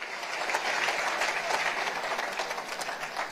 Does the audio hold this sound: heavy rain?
no